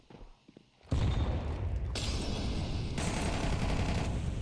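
Sustained automatic gunfire during a Counter-Strike match on the Anubis map, loud and continuous after a sudden start, with dense overlapping shots and the shooting staying close.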